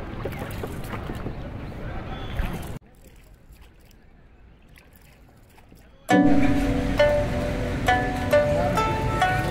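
Boat ride on the clear Umngot River, with steady broad water and hull noise, a quieter lull in the middle, then a louder stretch with voices talking over it.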